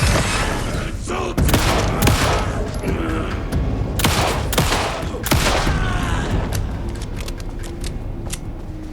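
Gunfire in the Alan Wake II video game: loud, sharp shots crack out in rapid bursts, with booming hits and echoing tails mixed into the game's ambient sound.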